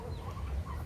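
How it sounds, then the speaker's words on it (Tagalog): Native backyard chickens kept for eggs cluck softly on a farm, with a couple of brief, faint clucks over a low rumbling background. "Dami akong alagang mga manok."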